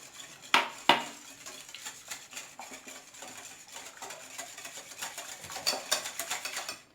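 Spoon clinking and scraping against a bowl while warm water is stirred into a mixture, two sharp knocks early, then steady, fairly quiet scraping and tapping that grows busier toward the end, with no one talking.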